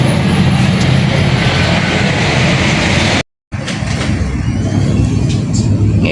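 A Toyota Corolla with a 2E engine running after a general overhaul, a loud steady engine drone with a brief dropout partway through and no talk.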